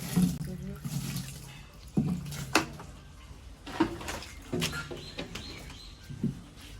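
Water is poured to dampen coconut-husk substrate in a python enclosure, heard as short splashing bursts at intervals, with a voice talking over it and birds faintly in the background.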